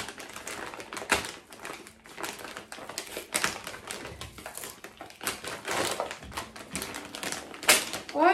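Amazon packaging paper being unwrapped by hand, with close, irregular crinkling and tearing rustles in bursts throughout, a few sharper crackles near the end.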